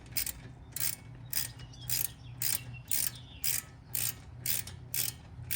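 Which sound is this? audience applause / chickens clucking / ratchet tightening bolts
ratchet tightening bolts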